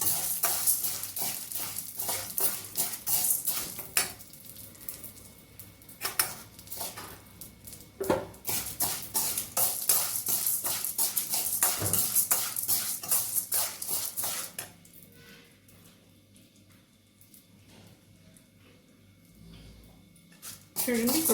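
Coriander seeds and urad dal frying in a spoonful of ghee for minapappu rice, with a soft sizzle, spoon scraping and clinking against the pan, then quieter simmering, while a person talks over it.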